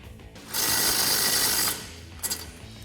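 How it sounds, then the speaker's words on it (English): Socket ratchet tightening a tow hook bracket bolt on a 2014-2018 Chevrolet Silverado 1500 HD front bumper, giving a steady close clicking burst of about a second, then a couple of brief fainter clicks. "Grab your socket and tighten it down."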